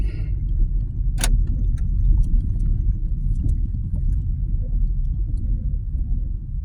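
Steady low engine rumble from a car on the commute to work, continuous and fairly loud from inside the cabin, with a brief sharp click or jingle near the start and faint rattles throughout; no talking.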